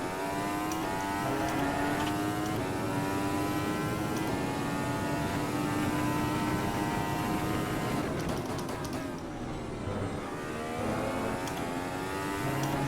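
A sim-racing car on a dry Montreal circuit revs hard at full throttle, its engine note climbing steadily through long pulls, then dropping briefly under engine braking before rising again, loud and continuous with no voice.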